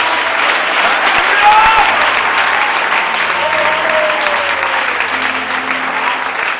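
At a Christian gathering, an audience breaks into loud, sustained applause, dense clapping filling the room at close range without pause.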